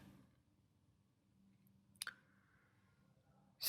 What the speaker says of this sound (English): Just click on that.